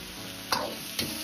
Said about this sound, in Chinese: 一定要通过小火这样慢慢的煸炒，炒至冬瓜表面稍微有点焦黄